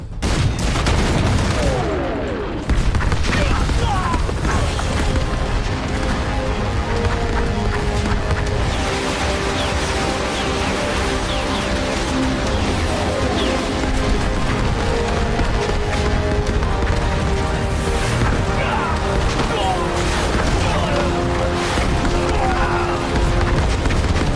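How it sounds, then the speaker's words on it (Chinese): A dense, continuous artillery and rocket barrage from a Korean War film battle, loud booms and rapid fusillade overlapping without pause, with layered music or effects beneath and no clear gaps. "原射击诸元不变，再来一轮火力覆盖！"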